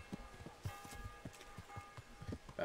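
A horse's hooves clip-clop at a brisk walk in the medieval game Kingdom Come, a quick run of fairly close, sharp knocks over quiet background hum.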